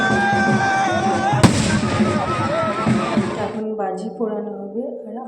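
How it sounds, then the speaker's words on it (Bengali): Fireworks and firecrackers being set off at a Charak Puja village festival, a dense crackling, popping barrage with one sharp loud bang, continuing for several seconds before dying away as people talk in the background. "আমাদের পুজোর চক পুজো না ভীষণ পরিমাণে বাজি ফোটানো হয়"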